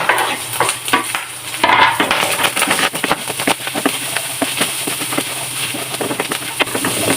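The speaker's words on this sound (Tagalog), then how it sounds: "Lagyan na natin ang sibuyas at bawang." Onion and garlic sauté in hot oil for a patola soup with misua and malunggay, with loud, close sizzling and repeated metal utensil scrapes and clinks as the pan is stirred.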